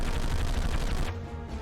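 Rapid squad machine-gun fire in the Conflict: Desert Storm military shooter, a dense continuous rattle of close, loud shots that cuts off abruptly near the end.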